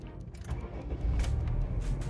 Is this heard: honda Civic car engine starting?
yes